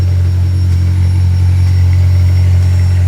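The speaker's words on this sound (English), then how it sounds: "So, the engine sound is amazing." A Ferrari F355 GTS V8 engine idles loudly and steadily with a constant deep, low rumble and no talking.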